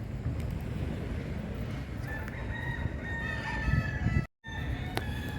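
Roosters crow and cluck outdoors in Lisbon, several bright crows rising over a steady background rumble, fairly close, with no talking.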